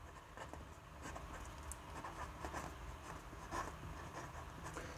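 A pen scratches across paper while someone works out algebra, the strokes close and steady in a continuous run of short scratches with small pauses.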